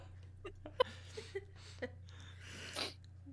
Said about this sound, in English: For some reason, this makes Gambit sneeze.